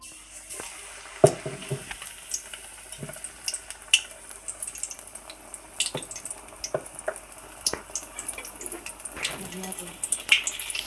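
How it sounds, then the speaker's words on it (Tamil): Batter-dipped plantain bhajji frying in hot oil crackle and pop in scattered, irregular bursts, close by, with quiet gaps between the sharper spits. "இப்போ எண்ணெயில் போட்டுடலாம்."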